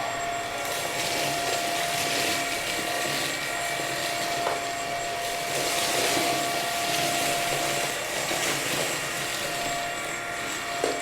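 Bissell CleanView XR Pet upright vacuum cleaner running continuously, a steady loud motor whine and airy roar with a high tonal hum, close and unchanging throughout.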